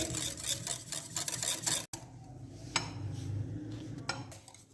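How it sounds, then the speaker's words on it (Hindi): A spoon stirs Russian salad in a bowl, giving quiet, close scraping and light clinking strokes. One sharp knock comes partway through, and no one speaks. "अब हम इसको अच्छे से मिक्स करेंगे।"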